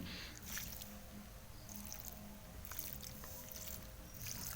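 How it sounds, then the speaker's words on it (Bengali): Water poured onto the base of vegetable plants in grow bags, a soft trickling, splashing flow with gentle sloshes, faint and close, without speech. "আর এবারে দেখো আমি কিন্তু গাছের গোড়ায় জল দিয়ে"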